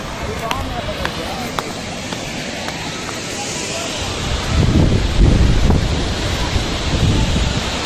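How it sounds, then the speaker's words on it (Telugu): Ethipothala waterfall, a broad rushing roar of falling water outdoors with wind buffeting the microphone, swelling louder in the second half while a person talks over it. "సౌండ్ కూడా మస్తు వినిపిస్తుంది. అటు సైడ్ వెనక వైపు కూడా వాటర్ అయితే పడుతున్నది."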